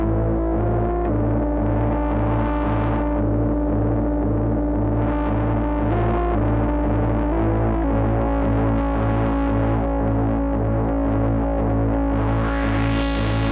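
A Softube Modular synthesizer holds a thick, distorted drone while keyboard-played notes pulse rhythmically over it. The drone stays loud and continuous with no voices.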